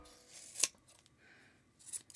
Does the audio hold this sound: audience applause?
no